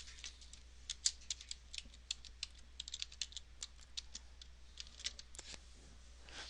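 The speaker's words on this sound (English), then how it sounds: "Okay, so the next thing we do is we enter our password." A password being typed on a computer keyboard, with a quick irregular patter of soft key clicks, close but quiet, no voices.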